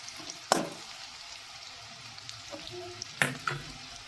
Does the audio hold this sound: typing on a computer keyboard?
no